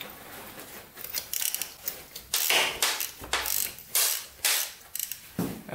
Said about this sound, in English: So let's take a wrench and see if the spark plug's tight.